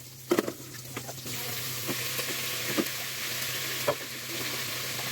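Chicken pieces sautéing in a pan for Filipino tinolang manok, with a steady sizzling fry and occasional louder stirring clatters, close and with no talk.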